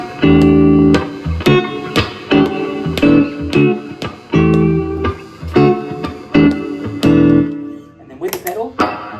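Electric guitar played clean through an amp on a pedalboard rig with no overdrive, a series of strummed chords ringing and decaying in a loose rhythm, loud and close.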